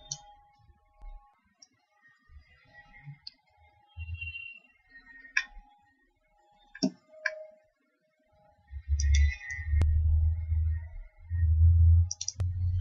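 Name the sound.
computer mouse clicking to select a file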